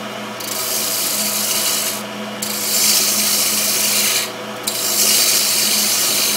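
A wood lathe turns a small wooden candle stand while a tool shapes the spinning spindle, giving a loud, steady scraping rasp with a constant motor hum and two brief pauses.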